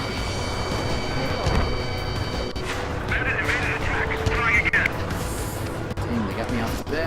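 Aircraft gunfire in the Ace Combat 7 flight combat video game: dense, booming bursts of cannon fire run throughout with a steady roar behind, mixed with in-game voice chatter.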